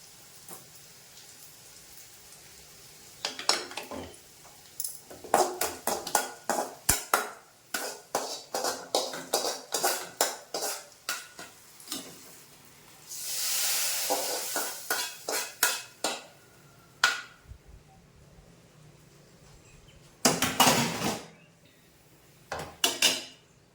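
A fenugreek tempering is poured into spinach dal, with a rush of sizzling near the middle, surrounded by many sharp clinks and scrapes of a spoon against pots and vessels, close up and without talk.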